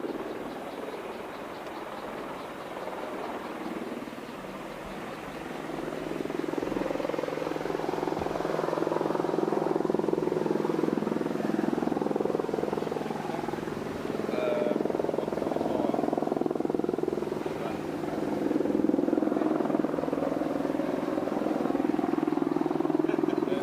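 Helicopter, probably an Apache, coming in to land at Wattisham Flying Station, a steady rotor and engine drone that grows louder and holds close over about twenty seconds.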